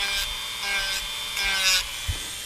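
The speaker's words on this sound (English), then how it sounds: "you can take your Dremel and take it down really slow" Dremel rotary tool grinding slowly along the edge of a Glock frame for an undercut, making a close, steady whirring rasp that swells in several short passes, with no talking.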